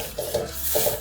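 Drumstick leaves and curry leaves dry roast in a pan as they are stirred, producing two short pairs of dry rustling scrapes against the metal, close and quiet with no talking.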